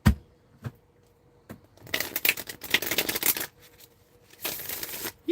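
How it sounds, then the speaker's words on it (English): Playing cards are shuffled: a few isolated taps and clicks, then two bursts of rapid, papery riffling, close and clear, with no voices. "Just shuffling the cards."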